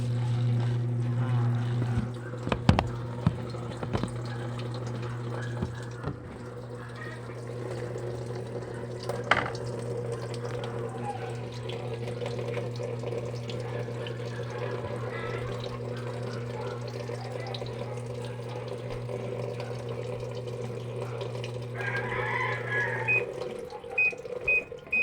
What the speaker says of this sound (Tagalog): Makikita natin, naglalabas na siya ng tubig.